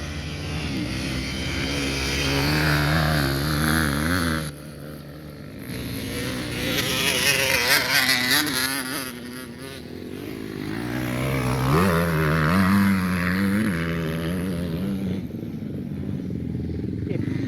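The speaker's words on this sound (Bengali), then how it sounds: "মাউন্টেন বাইকগুলি রেসিং হচ্ছে এখানে" Motorbikes race at a practice session in Thailand, their engines whining and revving loudly as they rise and fall, with bikes passing close by in waves.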